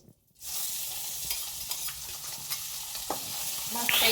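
Curry leaves and a ginger, garlic and green chilli paste hit hot oil and sizzle, close and steady for several seconds after a brief quiet start, with a few faint stirring scrapes over the crackle.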